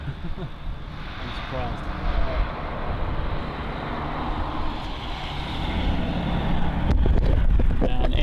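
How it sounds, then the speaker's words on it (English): An Iberia airliner approaching at Helsinki Airport, its engine roar a steady broadband rumble that builds gradually and grows louder toward the end, with people talking over it. "We've actually got one of the Iberias coming our way."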